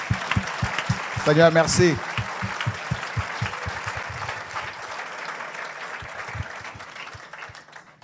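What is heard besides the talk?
audience applauding, acclaiming Jesus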